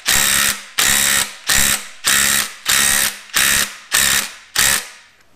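A 3/8 inch ratchet turns a bolt during an LS engine teardown, giving eight loud, evenly spaced clicking bursts in a steady rhythm, close and alone.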